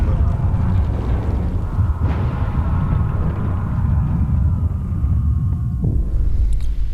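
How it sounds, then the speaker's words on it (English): A cutscene explosion in the generator's foundation in the video game Frostpunk, heard as a loud, deep rolling rumble that throbs on and settles into a low drone with a faint tone, alone without speech. "an explosion in the generator's foundation caused a tunnel collapse, trapping several workers"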